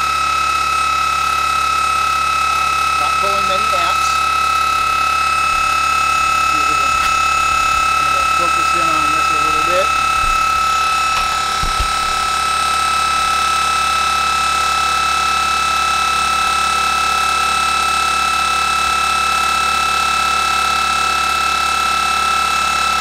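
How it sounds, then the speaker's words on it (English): An electric motor runs steadily with a slight high squeal, a constant whine and hum throughout, with a few mechanical clicks and rattles near the start; speech is faint or absent. "A little squeal to the motor."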